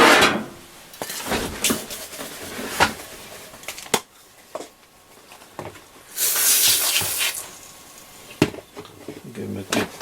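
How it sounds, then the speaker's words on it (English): Foam cleaner is sprayed onto the switch buttons of a Roberts R707 radio module, with short hissing spray bursts, one longer and louder, mixed with scattered clicks and handling knocks. "I'm going to use my foam cleaner"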